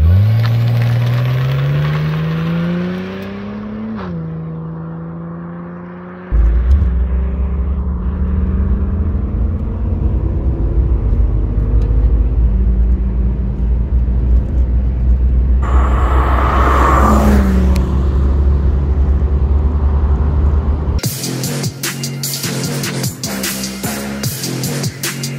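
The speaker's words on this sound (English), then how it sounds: "Quarter mile time for factory bog stock VL Calais" Factory-stock Holden VL Turbo Calais launching on a quarter-mile run, its engine note climbing in pitch through several gear changes, then a loud, deep rumble at speed, ending in a sudden burst of noise.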